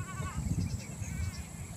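Goats bleating briefly, a wavering nasal call up close over a low rumbling background.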